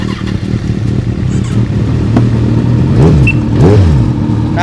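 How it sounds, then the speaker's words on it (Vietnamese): Three Kawasaki Z motorcycles, a Z800, a Z900 and a Z1000, idle loudly together as one dense engine rumble, with two sharp throttle blips swelling up near the end. "đây là ba tiếng của ba con Z đề lên cùng một lúc"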